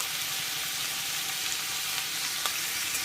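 Green tomatoes fry on a high flame, a dense, steady sizzle and crackle close up with faint stirring scrapes, no voices.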